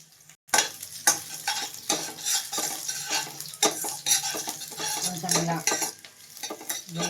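Crushed and finely chopped garlic fries in a pan while a metal spoon stirs and scrapes, a steady sizzle broken by repeated clinks and scrapes against the pan, close and fairly loud, with no voices.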